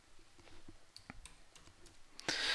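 Light clicking keystrokes on a computer keyboard are tapped out irregularly and quietly, ending with a slightly louder burst of keys.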